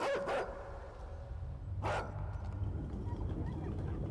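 A dog gives two sharp barks, one right at the start and another about a second and a half later, over a quiet background hum.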